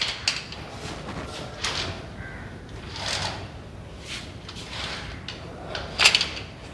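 A riveted metal safety gate on a new house is pulled, giving a series of scraping, rattling metallic slides and clunks spread across the stretch, fairly close and without talk.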